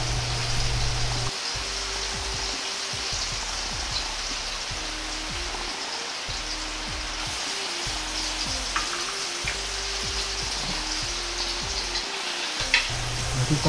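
Hamburger steak sizzles and spatters in a hot pan with a dense, steady crackle, close and loud, broken by brief lulls and soft clinks as the patties are handled.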